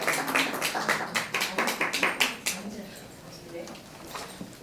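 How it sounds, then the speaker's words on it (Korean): Applause from a forum audience, a run of distinct, fairly loud hand claps in an uneven rhythm that thins out and fades to quiet room noise by the end. "큰 박수로 맞아주시기 바랍니다"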